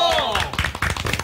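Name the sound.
audience clapping for the opening dancer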